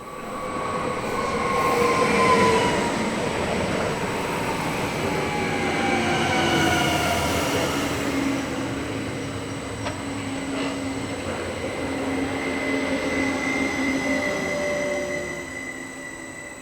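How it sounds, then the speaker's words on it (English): A train rolls steadily through Hannover-Linden station with a continuous rumble, high metallic wheel squeals and faint clickety-clack, loud and close throughout with no voices. "Local passenger train services are around half-hourly in each direction, formed by Class 427 units."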